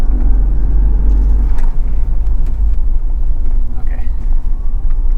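1990 Toyota Supra Turbo accelerating hard on a straightaway, a loud low engine rumble and drone heard from inside the car, with road noise and a person talking over it.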